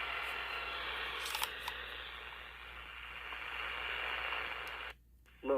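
A Raddy RF886 radio being repaired plays its shortwave band with a steady hiss of static and faint tuning whistles, then a brief near-silent gap and a click as it is switched.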